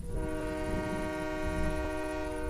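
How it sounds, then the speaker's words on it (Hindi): A train whistle at a railway station sounds as one steady, loud, multi-tone blast that holds for the whole stretch over a low rumbling background, with no talking. "ट्रेन की सीटी यहाँ"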